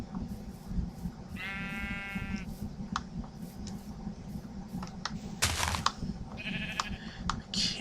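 Sheep in the video game Minecraft bleat twice in short wavering calls, once early and once late, over a steady hum of game ambience with faint clicks.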